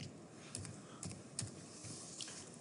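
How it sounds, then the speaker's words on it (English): Typing on a computer keyboard while working with text in design software, a run of soft, uneven key clicks heard close and fairly faint, with no talking. "let me just type this out again."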